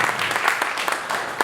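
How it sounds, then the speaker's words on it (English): Community meeting audience giving a round of applause, a brief steady patter of many hands clapping at moderate loudness. "give a big round of applause for that"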